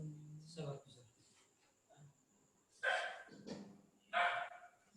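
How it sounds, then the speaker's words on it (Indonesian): A dog barks a few times in the background during an indoor gathering in Sumba, Indonesia, with sharp bursts cutting over people talking. "ada guguk yang menggonggong itu"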